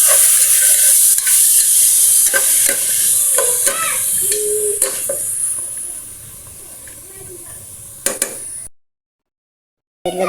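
Half a kilo of chicken pieces sizzles and fries in a pot with aromatics for Filipino lugaw, with repeated scraping stirs and clacks of a utensil over a steady hiss, then a brief silence near the end.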